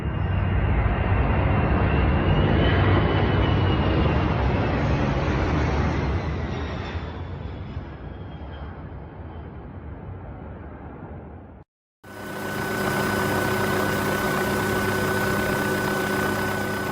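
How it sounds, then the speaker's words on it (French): An Australian air force transport plane flies low over the city of Brisbane during an annual air show, its loud engine roar swelling and then fading as it passes, followed by a steadier droning hum. "Un avion de transport de l'armée de l'air australienne se fraye un chemin à travers la ville animée de Brisbane"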